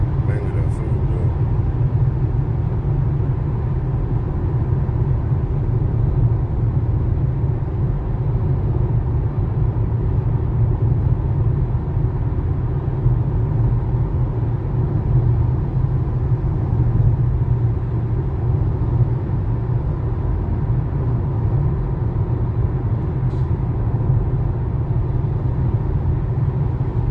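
Steady road and engine rumble from a car cruising on the interstate, a constant broadband drone with no breaks that fills the whole stretch, loud and close as from inside the cabin.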